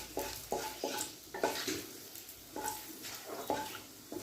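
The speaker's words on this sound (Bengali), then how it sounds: "তেজপাতা, গোটা গরম মশলা, চিনি খুব ভালোভাবে ভাজা হয়ে গেছে।" Bay leaf, whole garam masala and sugar fry in hot oil in a pan while a spoon stirs them, giving rhythmic scraping strokes about every half second over a soft sizzle.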